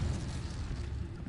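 Incendio fire spell cast in Hogwarts Legacy, a brief rumbling whoosh of flame with a booming, burst-like onset that fades slightly over about a second.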